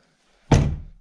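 A nailed-shut door in an abandoned rural house gives a single heavy thud when pushed, after near silence, then fades quickly.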